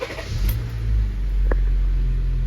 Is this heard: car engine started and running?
yes